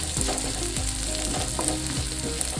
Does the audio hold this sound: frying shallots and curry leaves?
yes